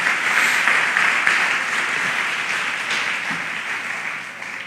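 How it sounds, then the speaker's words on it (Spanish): Applause fills a church after a pastor's call to praise the Lord, a steady wash of clapping from the congregation that slowly thins out. "Vamos y le des aplauso al Señor bien fuerte."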